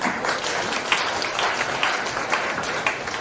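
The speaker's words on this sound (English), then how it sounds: "Big clap for sir's expertise" Seminar audience at a national-level academic event claps steadily, a busy, even patter of many hands at moderate volume that continues throughout without pause.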